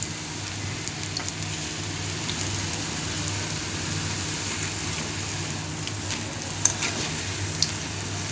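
Onion bajji deep-frying in hot oil, cooked Telangana style, a steady soft sizzle and bubbling with a few faint crackles and pops near the end.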